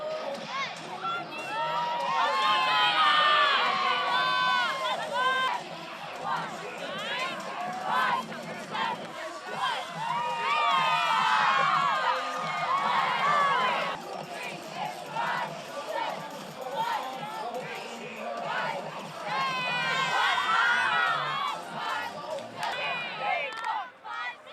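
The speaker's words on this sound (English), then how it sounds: "This week, we bring you the cheer team from Doherty Valley." High school cheer team performing while a crowd cheers, with loud overlapping shouts, whoops and chanted calls that surge in waves across a busy gym-like setting.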